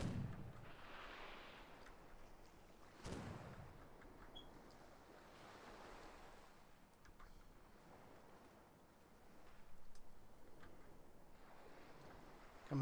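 Ship cannons fire a broadside in the video game Blood & Gold: Caribbean, one sharp booming shot early followed by rolling ocean waves and wind that swell and fade, with a louder surge near the end.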